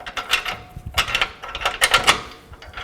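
Metal bolts clink and scrape as they are handled and slid through a front lower control arm on a 2007-16 GMC Acadia, a series of close, light clacks and rattles.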